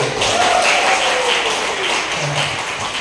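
Crowd applause at a church service fills the clip, steady and fairly loud, with a murmur of voices under the clapping.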